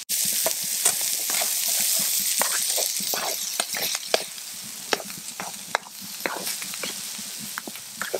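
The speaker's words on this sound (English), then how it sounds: "Try to get a good sizzle on everything." Vegetables sizzle steadily in a hot frying pan, with scattered utensil scrapes and clinks throughout.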